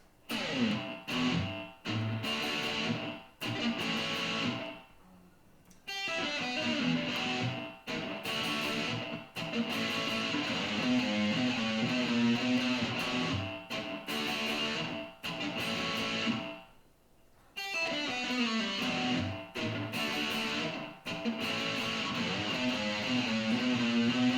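A distorted electric guitar plays a chugging riff in repeated phrases, with brief pauses between sections; loud and close, no voices.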